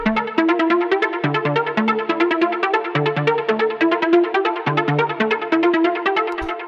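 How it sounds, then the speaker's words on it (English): A bright synth pluck loops a one-bar lo-fi rave techno melody in steady, even rhythm, the same short phrase repeating over and over, upfront and alone. "The first sound that we have here is this Pluck, which sounds like this."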